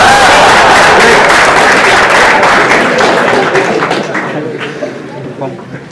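Audience applause at a TEDx talk at IIT Patna during an interactive session, a dense wash of clapping that starts loud and thins out toward the end, with some voices mixed in.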